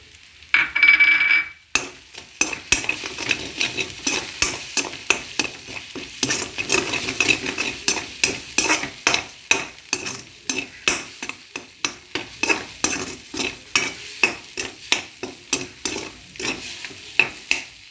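Garlic paste fries in a pan for chicken fried rice, a constant sizzle punctuated by a long series of rhythmic scraping and clattering stirring strokes up close.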